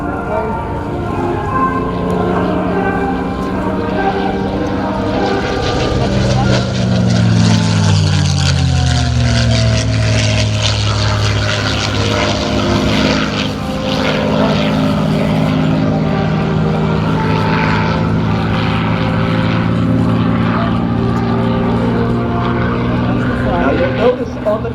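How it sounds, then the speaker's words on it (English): A P-51D Mustang propeller fighter roars past at an air show, its engine note swelling loud and dropping in pitch as it passes, then droning on steadily while an announcer talks over it. "Notice on the down line, you heard that aircraft coming in with its max speed of 440 miles per hour."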